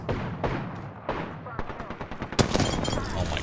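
Rapid gunfire from an Apex Legends firefight, with bursts of shots growing denser and louder toward the end, layered over game effects while players talk.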